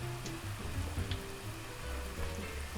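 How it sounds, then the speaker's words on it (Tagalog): Fishballs fry in hot cooking oil with a soft, continuous sizzle and occasional light crackles, fairly quiet and without speech. "Lagyan nyo lang sa mainit na mantika."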